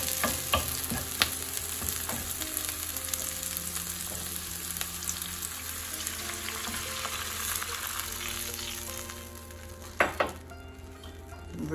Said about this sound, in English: now you need to add the spring onions and stir that